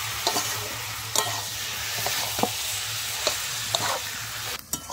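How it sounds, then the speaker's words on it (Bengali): Boiled kochur loti being stirred with spices in a pan, a spatula scraping in irregular knocks over a steady low sizzle, with no talking. "দিয়ে আমি মশলার সঙ্গে ভালোভাবে মিশিয়ে নিচ্ছি।"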